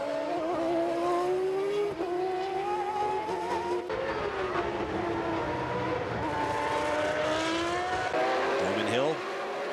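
Ferrari V12 Formula One cars race past at the 1995 Argentine Grand Prix, their high shrieking engine notes rising and falling as they accelerate and shift, loud and continuous under a commentator's voice.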